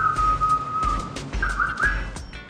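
A person whistles steady and then rising tones to calm horses, the whistle clear and fairly close over low rumbling background noise, with short breaks between phrases.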